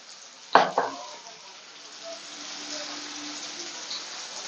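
Coriander powder tipped into hot oil for a river fish curry gives a sharp burst of sizzling with a quick second crackle, then a steady quieter frying hiss that carries on alone.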